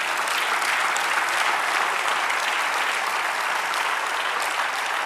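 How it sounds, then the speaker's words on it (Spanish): A church congregation applauds continuously during a sermon, a dense, even wash of clapping that holds steady throughout. "denle un aplauso al Señor."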